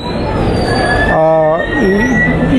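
The LTT–Visakhapatnam train rumbles loudly nearby at Vijayawada Railway Station, its wheels squealing with high metallic tones as it rolls in and slows.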